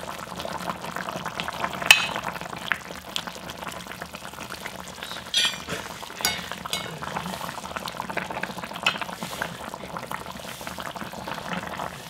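Close, continuous bubbling and gurgling of water at a rolling boil in a pot of pork, with soft pops and splashes scattered throughout.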